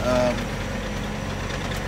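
A John Deere tractor engine runs at a steady idle-like rumble while hauling hay, a constant low mechanical drone with a brief tonal whine at the start.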